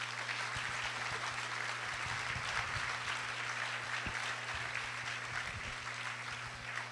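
A large banquet-hall audience at a civic awards dinner applauds steadily and fairly loud for the whole stretch, a dense wash of clapping over a low hum, with no voices rising above it.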